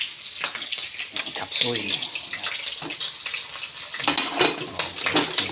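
Chop suey ingredients fry in a hot pan, giving a steady close sizzle with scattered sharp pops and crackles while a person talks over it.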